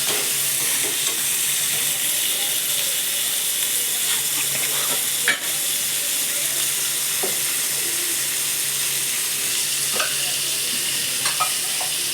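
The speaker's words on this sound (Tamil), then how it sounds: "இப்போ பொருசாக கட் பண்ணி வச்சுருக்க குடமலை எடுத்துக்கலாம் இதை நல்லா வதக்கிக்கணும்" Chopped capsicum sautéing in a hot pan, giving a constant broad sizzling hiss with occasional soft clicks and scrapes of a spatula, close and fairly loud with no talking.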